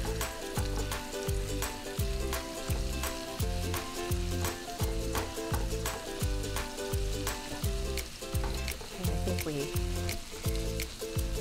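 Onions sizzle in butter in a pan as they are stirred and broken apart, a steady crackle sitting under a loud, rhythmic music track that largely covers it.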